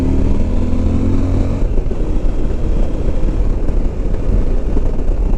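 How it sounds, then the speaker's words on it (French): A CF Moto 1000 MT-X motorcycle engine runs steadily at about 4000 rpm, a loud, continuous close-up drone with no one talking. "On m'a demandé de faire un peu plus écouter le bruit de la moto"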